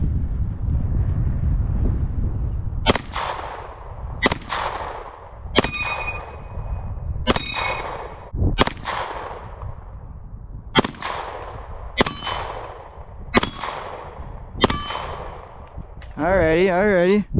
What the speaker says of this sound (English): now I'm gonna start shooting some other targets here